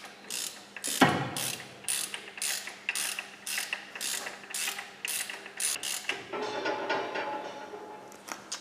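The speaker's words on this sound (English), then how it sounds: "that's the torque wrench set. Let's wind it on" Torque wrench ratcheting on a camshaft bolt of a Volvo B18/B20 engine, a close series of rhythmic clicking pulls, about a dozen strokes in quick succession with brief pauses between.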